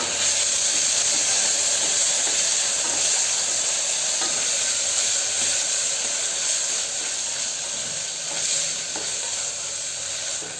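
Chopped tomato goes into onions sautéing in a pan for mint vegetable pulao, raising a loud, steady steamy sizzle with occasional stirring scrapes throughout and no talking.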